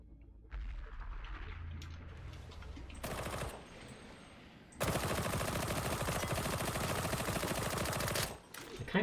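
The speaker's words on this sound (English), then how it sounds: "The fact that it's a torrent makes me think it shoots really fast, a lot of weak bullets." A rapid-firing torrent gun in the video game Warhammer: Darktide, two sustained loud bursts of fast, dense shots, a short one followed by a long continuous stream, with quieter game noise between.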